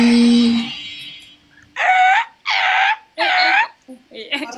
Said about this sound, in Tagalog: Ayaw mo nang maingay na aso? Aso talaga maingay.